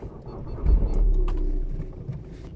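An Audi A3 8P car engine cranks and catches in one continuous low rumble, loud and close, settling into a steady idle with no talk over it.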